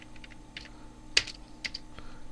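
A few soft, quick keystrokes tap out on a computer keyboard at close range, irregular and fairly quiet, with a brief louder cluster midway.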